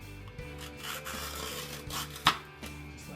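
A blade trims excess material in short scraping, rubbing strokes, several uneven passes with a sharper scrape near the end, close and fairly quiet.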